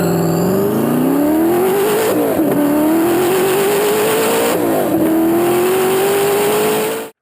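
A Hennessey Venom GT's 7-liter twin-turbo V8 in Forza Horizon, loud and close, revving hard through rising pitch sweeps with two quick shift breaks as the engine climbs through the gears, no talking.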